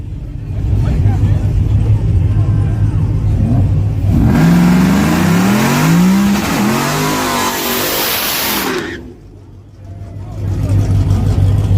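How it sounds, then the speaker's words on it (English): A race car at the track does a burnout, its engine revving hard and rising through swelling, sweeping tones at close range over a steady idling rumble, with voices talking around it. "Oh boy, he just doing all the burnout he can."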